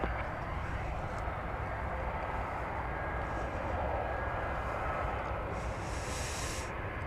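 Jet airliner engines roaring in a steady, distant wash of noise during takeoff at DFW Airport, broadband and continuous with a faint rising hiss near the end.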